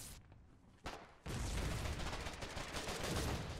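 Heavy gunfire and mortar fire in the war game Foxhole, a couple of thumps followed by a dense, loud, sustained roar of shooting and blasts.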